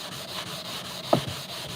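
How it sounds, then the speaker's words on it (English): A hand-held sanding block scrubbed by hand across the finish of a Westinghouse COP, smeared with a compound spread on with blue rags, giving a steady, close, gritty rubbing hiss with one brief louder scrape. "go at it with our sanding block"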